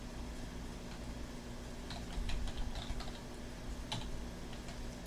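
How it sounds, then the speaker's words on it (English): Soft, quick keystrokes tap on a computer keyboard in scattered bursts over a low background hum, fairly quiet and close. "As soon as I finish typing this up."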